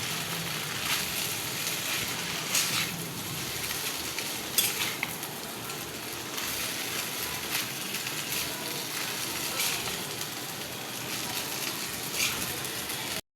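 Pasta with turmeric fries in a pan while being stirred, a steady close sizzle with repeated scraping and clinking of the utensil against the pan throughout.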